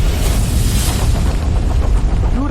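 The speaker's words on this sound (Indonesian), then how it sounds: "Luran radar meledak." A radar blowing up as an explosion effect, a loud sustained rumbling blast with dense low roar and crackling debris filling the whole stretch.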